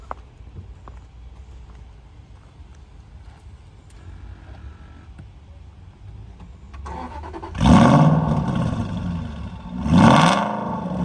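A car's engine turns over with a push-button start after a quiet stretch. Two loud bursts of cranking and revving follow close by, each rising and falling over a couple of seconds.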